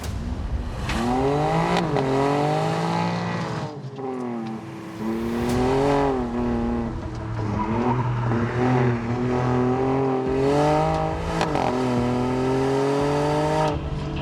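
A low-slung race car climbing a hill, apparently an electric car compared against a combustion one: a loud, close whining drive note that sweeps up and down in pitch as it accelerates and eases off, with no talking.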